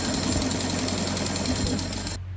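A Butterfly sewing machine motor whirs at high speed winding a bobbin in a steady continuous drone, then cuts off abruptly at the end.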